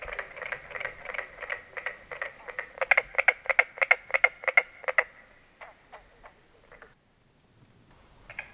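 A carpenter frog calls from close by in a wetland, giving a rapid run of sharp, evenly spaced knocking notes like hammer taps that speed up, then slow and fade, with no talk.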